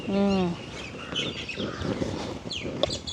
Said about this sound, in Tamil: மைனா புள்ளி ஒருத்தர் வந்துருக்கிறார் பார்த்தீங்களா.